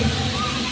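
Natural mountain spring water at a resort pool sloshing in a short, steady, close wash of water noise, with a voice talking over it.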